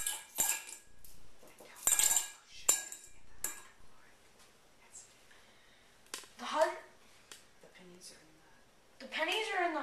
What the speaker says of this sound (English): let's put these pennies in